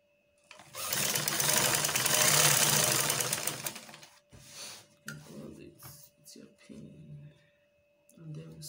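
A sewing machine stitches a shift dress in one steady run of about three seconds, followed by short intermittent bursts while a person talks.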